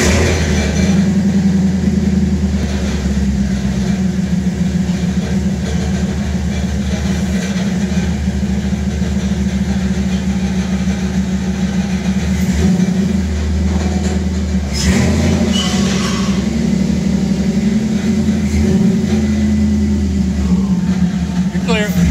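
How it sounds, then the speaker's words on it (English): A 1965 Chevy Nova with a swapped 6.0 LS V8 roars steadily through a burnout, its loud, continuous low engine drone rising and falling slightly for over twenty seconds, with a rattling exhaust and some voices underneath. "Exhaust rattle is badass, by the way."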